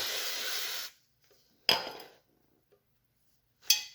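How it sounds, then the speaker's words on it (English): A WD-40 spray can hisses onto a paper towel in one sustained burst, then two shorter sharp sprays follow after brief pauses, close by in a quiet room. "So just spray some WD-40 on a paper towel."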